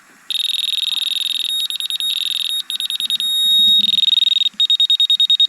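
A laser level receiver on a hillside worksite beeps in rapid, steady high-pitched pulses, with stretches of continuous tone between trains of short beeps, close and loud throughout.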